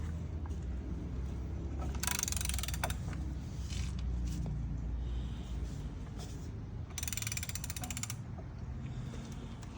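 A seized engine is turned over by hand, giving slow creaking and ratcheting mechanical clicks over a low steady hum, with two brighter bursts of scraping metal noise.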